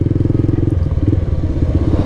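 A Honda CB150 X-Motion motorcycle engine thrums loudly while riding, a close, rapid, pulsing exhaust note holding a steady rhythm throughout.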